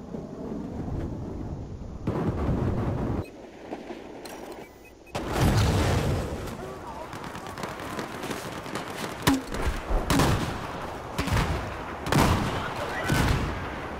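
Battlefield 4 combat on the Altai Range map: heavy booming grenade explosions and bursts of gunfire, loud and repeated, with players talking over the noise.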